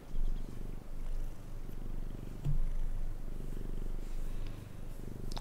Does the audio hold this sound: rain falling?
no